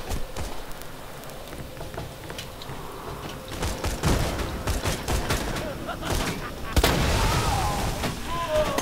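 Enemy gunfire in Borderlands 2 crackles in a steady barrage of shots and impacts, growing denser toward the end, with faint game noise underneath.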